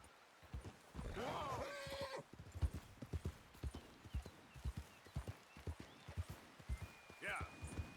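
Horse hooves trot in steady clip-clop rhythm in the Red Dead Redemption 2 video game, close and clear, with a neigh near the start and talk between players over the hoofbeats.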